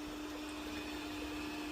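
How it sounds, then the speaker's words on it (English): Household vacuum cleaner droning in the background with a steady whine and hum, faint and unbroken, no one speaking. "my vacuum cleaner's running in the background"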